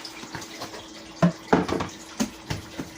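Short bursts of water spray and splashing in a sink, a few uneven spurts close by over a few seconds.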